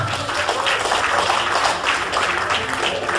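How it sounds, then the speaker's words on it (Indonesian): An audience of men and women at a seminar in Denpasar, Bali applauds steadily, a thick, continuous wash of many hands clapping that fills the room without pause. "Tepuk tangan Bapak Ibu untuk meraih motor dan mobil di Denpasar Bali."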